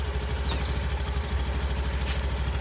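An old Honda Activa scooter idles nearby, a steady low engine putter with a faint rhythmic chug and light vibration, holding evenly throughout with no voices.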